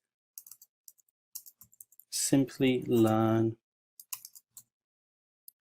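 Someone types a git command on a computer keyboard, producing sparse, light key clicks in short clusters before and after a brief stretch of close talking.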